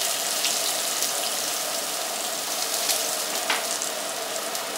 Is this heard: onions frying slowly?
yes